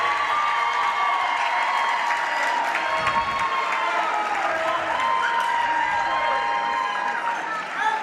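A basketball crowd in a high school gym cheers and applauds a called foul, a sustained roar of voices and clapping that stays loud and dense throughout, with shouts rising out of it.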